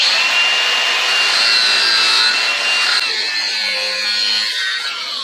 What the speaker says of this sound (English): We're going to cut a slit into the old bearing race